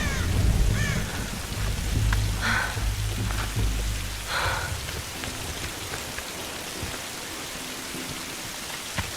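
Rain lashes down in a Tomb Raider storm, with low thunder rumbling over the first few seconds before easing into a constant dense downpour, with no talk.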